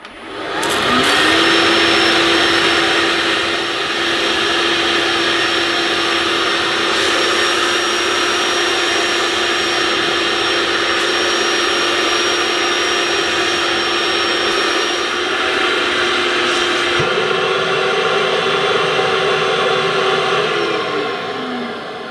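A Vax OnePwr SpotlessGo cordless spot washer suctions with a steady whining motor hum and rushing air, a constant drone that shifts pitch slightly near the end.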